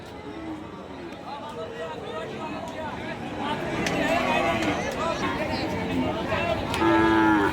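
Indian bulls and calves tied to posts at a livestock market moo loudly, with a clear call near the end, over steady crowd babble and voices.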